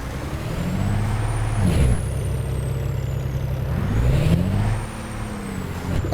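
A truck in American Truck Simulator rolls with a low engine rumble while air brakes hiss and squeal in two long sweeping releases, close and steady, with no talking.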